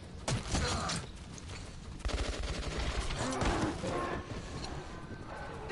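Scripted gunfight in the post-apocalyptic shooter Metro 2033 Redux, with bursts of gunfire and clattering shots in the game tunnels, loud and irregular, mixed with game voices.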